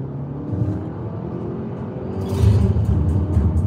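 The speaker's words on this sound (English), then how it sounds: "we're gonna floor it just to stretch her legs and listen to the fake automatic transmission sound being pumped into the car" A Honda Accord hybrid floored at full throttle, its steady engine rumble and whir swelling louder partway through as a synthetic automatic-transmission sound is piped into the cabin, heard from inside the car with no talk.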